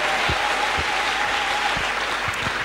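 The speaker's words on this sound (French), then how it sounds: "clap for yourself" Church congregation applauding steadily and loudly at a French-English bilingual worship service, a dense wash of clapping with no gaps.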